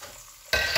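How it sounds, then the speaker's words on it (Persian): Lavash bread laid into hot oil at the bottom of a pot while cooking macaroni with ground meat, a sudden loud sizzle bursting in halfway through after quiet and continuing steadily, close by. "حالا من ته قابلمه یه مقدار روغن ریختم، روغن که داغ شد من نون میذارم واسه"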